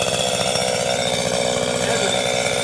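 A chainsaw runs steadily and loud at close range, cutting back overgrowth in a farmhouse garden, its engine holding a constant buzzing drone throughout with no voices.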